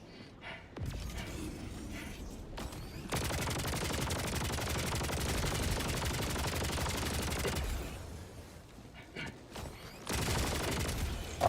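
An autocannon sentry in the video game Helldivers 2 fires a long sustained burst of heavy rapid shots, stops, then opens up again near the end amid mechanical clatter.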